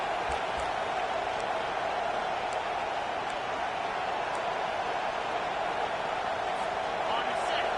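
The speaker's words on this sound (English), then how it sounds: "Decibels rising as the crowd gets behind this defense on 3rd down" Steady roar of a college football stadium crowd, Alabama Crimson Tide against Michigan Wolverines, swelling as fans back the defense on third down; a dense, continuous wash of cheering and noise with no let-up.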